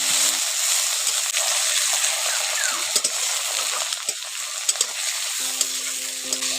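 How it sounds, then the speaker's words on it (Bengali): Chopped tomato and onion fry in a pan with a constant close sizzle, broken by scattered light taps and scrapes of stirring. "টমেটোর কুচিটা পেঁয়াজের সঙ্গে একটু ভালো করে ভেজে নিচ্ছি।"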